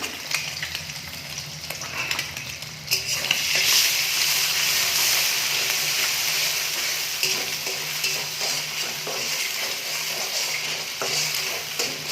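Eggs frying in hot oil in a pan for egg chowmein give a steady, close sizzle that jumps louder after a few seconds and then crackles on evenly with no talking.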